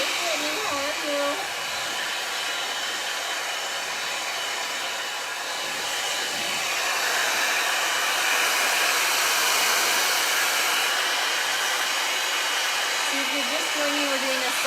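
Le Volume 60 mm 2-in-1 volumizing brush dryer blowing on short curly hair, a loud steady whir running throughout, with a voice speaking briefly at the start and the end.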